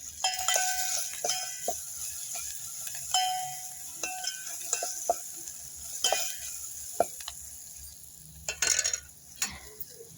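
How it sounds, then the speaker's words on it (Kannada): A spoon stirring ingredients into salted buttermilk in a bowl, with scattered clinks and scrapes against the bowl at an irregular pace, close and moderately quiet, with no one speaking. "ಇಷ್ಟೆಲ್ಲ ಹಾಕಿ ಮಿಕ್ಸ್ ಮಾಡ್ಕೊತಾಯಿದ್ದೀನಿ"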